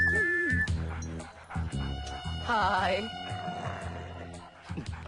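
A dog whimpers and yips in short, high-pitched bursts mixed with a man's speech, heard close and at moderate volume in a Hindi film scene.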